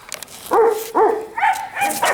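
A Central Asian Shepherd dog whines and gives short, strained bark-like yelps close by, four or five rising and falling calls in quick succession as it tries to get out.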